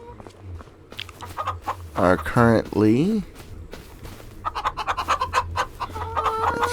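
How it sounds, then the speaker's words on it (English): Chickens cluck and chatter on a homestead farm in the Farming Simulator 25 video game, a string of close, busy bird calls that rise and thicken toward the end, with someone talking over them. "The chickens"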